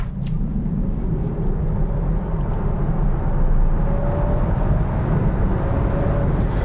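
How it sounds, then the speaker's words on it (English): The interior of a VW ID.Buzz GTX long-wheelbase electric van with all-wheel drive and an 86 kWh battery during hard acceleration: a loud, steady rush of road and wind noise, with a faint motor whine rising in pitch. "I'm gonna accelerate and see how it is."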